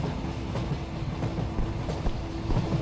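A train rumbles past in an Indian horror video game, a dense continuous roar with rhythmic wheel clatter filling the whole stretch, loud and close, with no voices.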